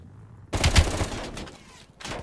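Gunfire in Call of Duty Black Ops Cold War erupts as a sudden loud burst of rapid shots, fades, then returns briefly at the end, with no talk over it.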